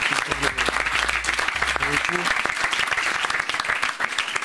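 An audience applauds police and gendarmerie, steady clapping from a crowd under a low hum and brief tones, with speech mixed in around it.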